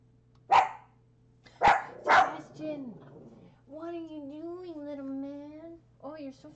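Sebastian the dog lets out three sharp close barks, then a long whining, howling vocalization and a brief final yip, with a person talking indoors.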